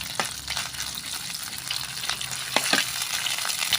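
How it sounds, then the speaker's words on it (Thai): Canned fish chili paste is stir-fried in a pan over moderate heat, producing a continuous close sizzle broken by several sharp spatula scrapes, with no voices. "เมนูนี้เขาเรียกว่า น้ำพริกปลากระป๋องผัดนะคะ เราก็ผัดไปเลยค่ะ"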